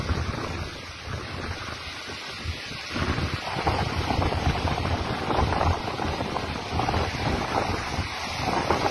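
Floodwater rushing as a dangerous torrent near Hyderabad and Qasimabad, Pakistan, a steady broadband roar of churning water mixed with wind buffeting the microphone, continuous and fairly loud throughout with no voices.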